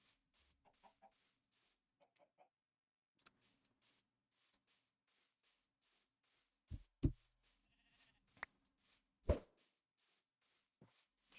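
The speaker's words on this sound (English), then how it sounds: "Sheep." A handful of short sheep bleats from Minecraft sound quiet and scattered, mixed with other farm-animal noises over a faint background, with no talking.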